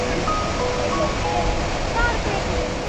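A waterfall near Manali roars as a dense, steady rush of falling water, loud and close, with no break and no talk over it.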